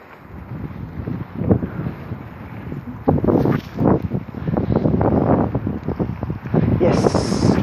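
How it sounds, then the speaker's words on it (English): Strong wind buffeting the microphone while cycling from Estonia to Latvia, loud irregular gusts and rumbling blasts that keep rising and falling throughout. "a lot of wind."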